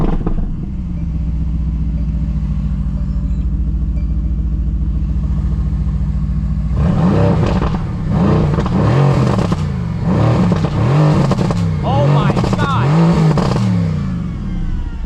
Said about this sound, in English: I know you guys like it when I rev the car. Hear that glorious V8.